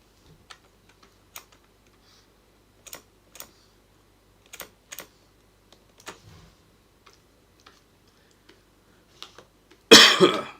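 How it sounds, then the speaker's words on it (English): A single sharp cough into the microphone bursts out near the end, close and loud, after a stretch of quiet with scattered light keyboard-like clicks. "I don't like coughing into the mic."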